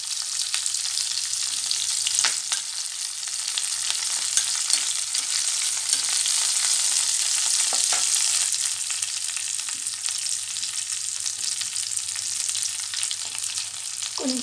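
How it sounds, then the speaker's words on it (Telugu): Green chillies and curry leaves frying in hot oil, a steady bright close-up crackling sizzle with scattered pops throughout, no voices. "త్రీ ఫోర్ గ్రీన్ చిల్లీస్, కరివేపాకు మంచిగా వేగనియండి"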